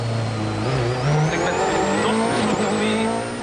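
A WRC rally car at the 2012 Rally France races over soaking wet roads, its engine roaring loud and close with rising revs and gear changes, a high whine sweeping upward as it passes.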